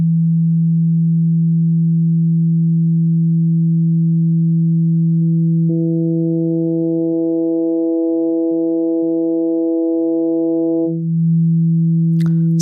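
Evolving FM synth pad on a Yamaha Reface DX, a steady pure low tone that swells as brighter harmonic overtones fade in, waver briefly, then drop back to the plain sustained hum.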